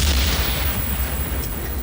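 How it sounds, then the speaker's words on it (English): Dense, booming battlefield explosions and gunfire from the 1998 war film The Thin Red Line roar continuously as a loud, rumbling wall of sound without clear gaps. "in the background there's just explosions just happening"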